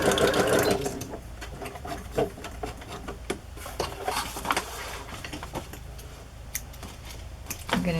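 Close, rapid stitching from a sewing machine sewing a row across a fabric journal cover, a busy rattling run with small clicks and handling noises throughout.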